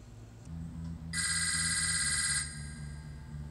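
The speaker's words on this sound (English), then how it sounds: "another phone call" A telephone rings once with a bright electronic trill lasting about a second, over a steady low hum in a stop-motion animation.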